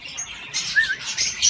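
A large imported budgerigar chirps in brief, bright tweets and warbles, close and fairly loud against a soft background hiss.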